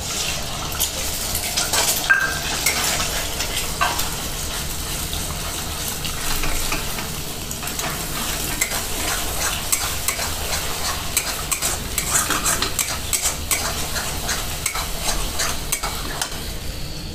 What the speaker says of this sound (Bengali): কড়াই দিব তেল, তেলটা গরম হয়ে গেছে। এবার ডিমটা ভেজে নেব।